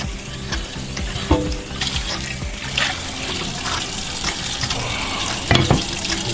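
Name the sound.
rinsing a cast iron frying pan with water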